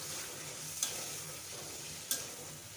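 Rohu fish cooks in a spice masala in an oily pan, giving a soft, steady sizzle with two sharp spoon clicks against the pan about a second apart.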